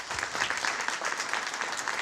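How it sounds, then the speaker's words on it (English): A crowd at a Senate campaign event applauds steadily, a dense wash of many hands clapping that holds at an even level throughout with no talk over it. "So can I get everybody to give Anastasia a hand"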